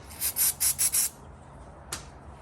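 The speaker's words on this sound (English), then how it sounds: "and just give that a wipe, and then just wipe the outside face of the caliper's insides just to clean off that dirt" Brake caliper on a Ford F150 rear brake job being wiped with a rag and brake cleaner: five quick rubbing strokes in a close, steady rhythm, then quiet with one short scuff near the end.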